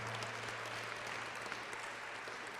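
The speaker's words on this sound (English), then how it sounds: "Please give another round of applause for our 23-24 graduates" Continuous applause for graduates fills a school graduation ceremony, a dense wash of many hands clapping with no voices over it, under a low steady hum.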